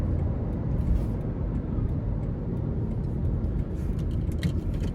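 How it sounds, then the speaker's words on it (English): A 2008 Toyota Camry SE with a 2.4-liter four-cylinder engine and a 5-speed manual, heard from inside while driving: a steady low engine and road drone that carries on evenly without talk. "So pickup is actually pretty good here, especially shifting with this 5-speed. Has a nice grunt to it, even though it's a 4-cylinder."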